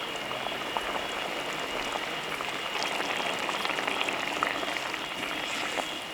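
Kottayam-style fish curry gravy bubbles in a pot, a dense, even hiss of small pops and gurgles that holds at a steady level throughout with no voices.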